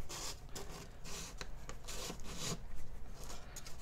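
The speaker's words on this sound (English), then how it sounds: "Wet dry sandpaper 320. And I'm just taking off some of the skin and any high spots." Steady scratchy rubbing of a metal ring being hand-sanded with 320-grit wet/dry sandpaper to remove skin and high spots, close and quiet with short repeated strokes and no talk.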